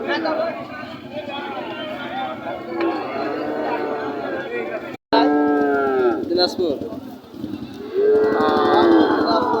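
Friesian cattle low at a crowded livestock market, with several moos rising over constant background chatter and nearby talking, the loudest calls coming late.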